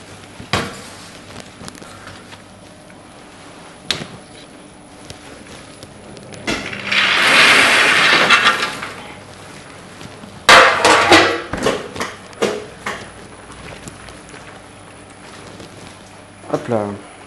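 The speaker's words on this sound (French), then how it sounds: "les noisettes sont en train de se mélanger au caramel" Roasted hazelnuts tumble and clatter into boiling caramel for Swiss praliné at a chocolatier's workshop, giving a swelling hiss mid-clip followed by a run of sharp metallic knocks and scrapes, with voices nearby.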